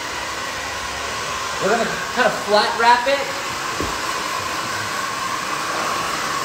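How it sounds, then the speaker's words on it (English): A handheld blow dryer drying short pixie-cut hair runs as a steady broadband whoosh throughout, with a stylist talking briefly over it near the start. "So I'm gonna use my hands and a blow dryer."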